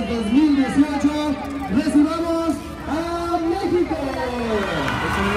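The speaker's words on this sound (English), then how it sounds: "Listen to this crowd, ladies and gentlemen." Crowd at a youth 12U baseball gold medal award ceremony in 2018, a loud steady roar of many voices and cheering blending together, with a voice talking over it throughout.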